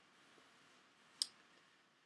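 A computer mouse clicks once on a sign-up button, a single sharp, close click against quiet room tone.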